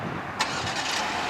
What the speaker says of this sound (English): and that starts up the car for you.